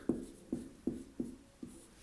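Five evenly spaced pen or chalk strokes during a maths lesson on ratio problems, each a short scratchy tap, close and fairly quiet with no talk.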